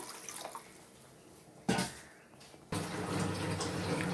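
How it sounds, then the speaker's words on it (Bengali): Water splashes into a cooking pot in two close bursts, the second a sustained pour. It is fairly near and clear over a quiet kitchen background. "এবার আমি একটু জল দিয়ে দেবো জল দিয়ে এটা একটু ফুটিয়ে নেব"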